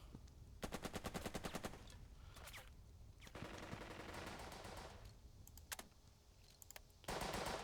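Bursts of rapid small-arms and machine-gun fire from the tactical war game Burden of Command, with rattling volleys and sharp single shots in quick succession at close range and no talk.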